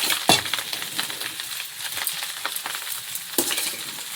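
A spoon scrapes and stirs rice around a frying pan for fried rice, with soft sizzling beneath and a couple of sharper knocks of utensil against the pan, close and steady, no voices.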